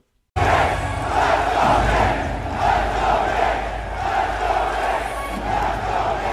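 A roaring crowd at a New York Knicks basketball game in the arena, a loud continuous swell of cheering and yelling that holds steady with rising surges, no clear speech on top.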